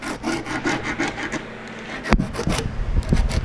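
A ballpoint pen draws a line along a wooden pallet-hive board, giving a close, continuous dry scratching rub with slight rasping variations and no talking.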